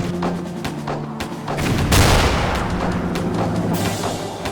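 Artillery fires in the strategy video game Blitzkrieg, a string of loud booms and crackling shots with one big blast near the middle, heard over dense battlefield noise.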